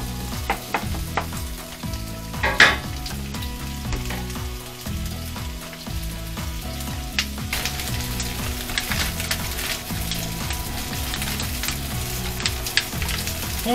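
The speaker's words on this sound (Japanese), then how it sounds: "中火で炒めていきたいと思います。" Onions stir-frying on medium heat: a steady, close sizzle with repeated stirring and scraping strokes, one sharper clatter early on, and no talking.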